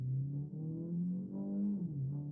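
A Citroën C5 Aircross with a modest combustion engine and automatic gearbox accelerates in first gear, its low steady drone rising slightly in pitch before a brief dip and recovery, heard close and alone without talk.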